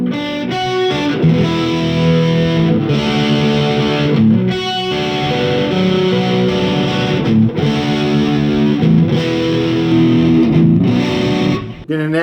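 Distorted electric guitar from a Les Paul fitted with '57 humbuckers, playing a loud, sustained riff of chugging chords and ringing notes with steady rhythm, close and alone.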